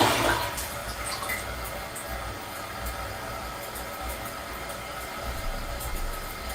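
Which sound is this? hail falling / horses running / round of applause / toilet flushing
toilet flushing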